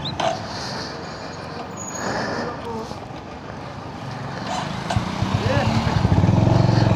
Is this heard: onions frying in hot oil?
no